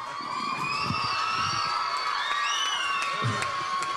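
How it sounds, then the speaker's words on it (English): Crowd at a live concert cheering and whooping with shrill whistles over a steady hum of audience noise, with a few scattered claps and shouts throughout. "now you're giving me a nice round of applause"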